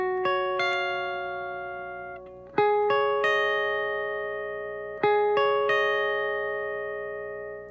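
A slow picking pattern on a clean electric guitar, single plucked notes ringing out alone and close in small groups, with long decays between clusters of attacks.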